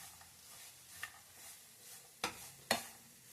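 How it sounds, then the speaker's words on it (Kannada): An amla mixture for laddu fries gently in a pan on low flame, a faint soft sizzle broken by a few sharp scraping stirs near the end. "ಸಣ್ಣ ಉರಿ ಇಟ್ಟರೆ ಚೆನ್ನಾಗಿ ಫ್ರೈ ಆಗುತ್ತೆ, ಚೆನ್ನಾಗಿ ಬೇಯುತ್ತೆ."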